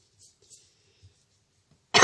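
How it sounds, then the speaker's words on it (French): A single sharp cough bursts out at the very end after near silence with faint breathing, close and loud. "je tousse maintenant."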